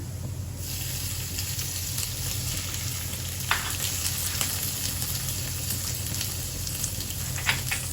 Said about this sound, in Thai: เราใส่กุ้งลงผัดเลยค่ะ